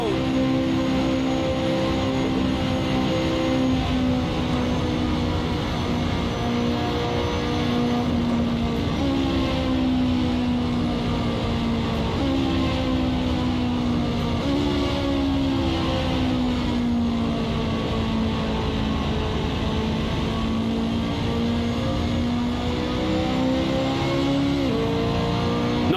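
McLaren P1 GTR race car engine in Assetto Corsa, loud continuous high-revving drone at full throttle, the pitch sagging and jumping with each gear change over about half a minute, no talk.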